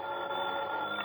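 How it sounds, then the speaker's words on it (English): A bedside telephone rings in a continuous jangling bell burst, loud and close, with nothing else heard. "the phone beside my bed started jangling again."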